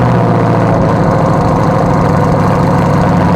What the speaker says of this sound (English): this is gonna be the last time you guys get to hear a cold start with the Armytrix exhaust